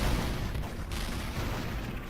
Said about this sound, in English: Just explosions everywhere.